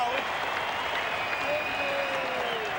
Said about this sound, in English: You can tell by the crowd, it's a goal.